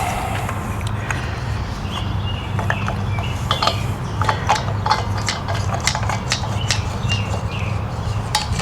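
Metal fitting on an RV propane tank line being tightened with a wrench, producing a run of small clicks and ratcheting taps over a steady low engine-like hum, fairly close.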